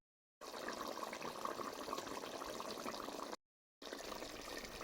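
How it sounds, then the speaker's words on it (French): Water poured into a pot of vegetables cooking with chicken and peas, a soft steady trickling flow that breaks off briefly and resumes. "je vais rajouter un peu d'eau"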